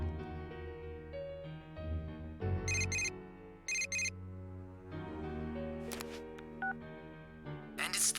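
Game sounds from Persona 4 Golden ring out as a cell phone call, with bright repeated chirps and beeps over a sustained synth music backdrop, closing with a short high jingle.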